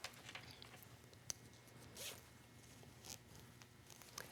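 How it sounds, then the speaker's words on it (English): A zipper on a fleece jacket being opened in a few short, quiet rasping pulls, with a soft click among faint handling noises. "I'm going to open my zipper back up"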